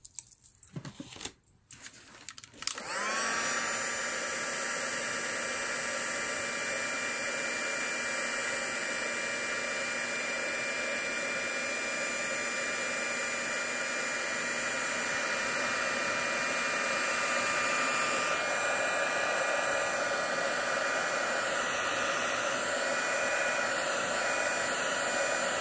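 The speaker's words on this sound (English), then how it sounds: "heating tool" Heat embossing tool blowing steadily as it melts clear embossing powder, a loud continuous whirring hiss that starts abruptly after a couple of seconds of handling noise and holds unbroken to the end, with no talking.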